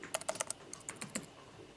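Quick bursts of typing on a computer keyboard entering a name and email into a WordPress comment form, close and soft clicks in two short runs, no voice.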